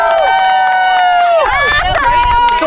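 A crowd at an all-girls boxing event in Atlanta makes loud, close noise, shouting and cheering in a dense burst of overlapping voices.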